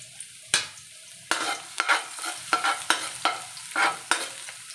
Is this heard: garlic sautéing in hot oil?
yes